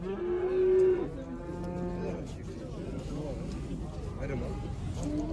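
A cow gives one loud, close moo, followed by the busy murmur and voices of a crowded livestock market in Kyzylorda, Kazakhstan.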